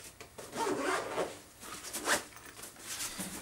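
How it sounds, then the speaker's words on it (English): A zipper on a bag being pulled closed, several short rasping strokes rising and falling close by. "And just zip her up."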